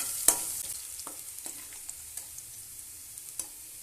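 Onions frying in oil for Tamil ennai kathirikai kuzhambu give a soft, steady sizzle, with scattered light clicks of stirring and one sharper tap near the start, fairly quiet and with no voices.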